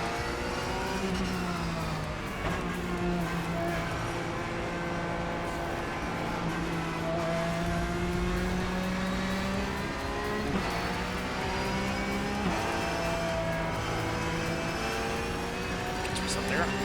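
Race cars in the iRacing sim, engines droning and shifting pitch through gear changes and close passes, a continuous layered roar with talk over it.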